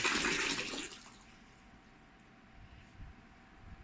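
Liquid runs from a BTMS-17K digital filling and weighing machine into a bottle in a brief rushing pour that stops within a second, leaving a low steady machine hum.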